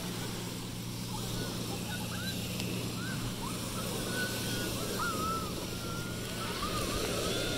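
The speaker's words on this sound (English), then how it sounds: "Don't the waves make a nice sound, Catch?" Ocean waves washing onto a shore make a soft, steady hiss and rumble heard from some distance, with a few bird calls chirping faintly above the surf throughout.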